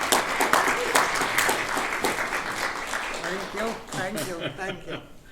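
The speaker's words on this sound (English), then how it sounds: "Let's give her a big round of applause" Audience at a horror convention applauds a guest, lively clapping near the room, fading toward the end as a voice begins speaking over it.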